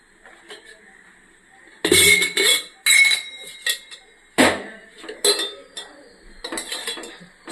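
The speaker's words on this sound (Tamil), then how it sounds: "ஸ்டவ் பற்ற வச்சுக்கலாம். கடாய் வச்சுக்கலாம்." A metal kadai pan set down on a home kitchen stove, heard as loud clanking and scraping bursts of cookware, close up, with light clinks between them and no talking.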